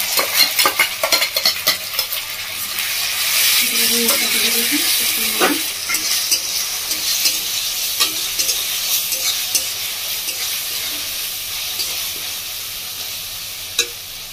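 Ground spice paste frying and being stirred with browned onions in a pan for a Bengali village-style chela fish dish, a steady loud sizzle with repeated scraping stir strokes and occasional utensil clinks, no voices.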